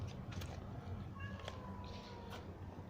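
A mother cat makes a few short, faint meows over a low background hum, with brief high chirps scattered through, near a nest of kittens.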